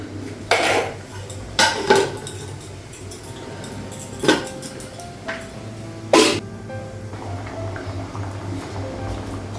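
Dishes and a bowl clink and clatter as cooked dal is transferred into a bowl in a home kitchen, with several sharp separate knocks spread over quiet background hum.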